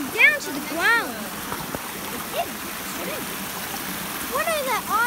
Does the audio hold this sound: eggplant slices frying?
no